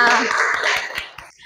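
A classroom of students breaks into a brief round of applause during a microteaching lesson, a quick burst of fairly rhythmic clapping that thins out and fades within a second or two.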